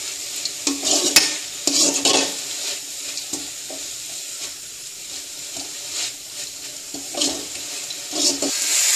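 Spinach being stirred in a hot cooking pan, giving a steady sizzle with repeated scraping strokes of the spoon, close and fairly loud, with no talking.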